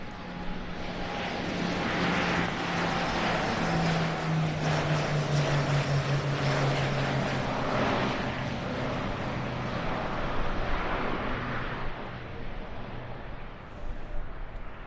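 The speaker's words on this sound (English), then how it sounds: "a pairs demonstration by two E-2D Hawkeyes" Two E-2D Hawkeye carrier-based airborne early warning aircraft fly a pairs demonstration at an air show, their propellers and engines giving a steady, fairly loud drone that slowly shifts in pitch as they pass.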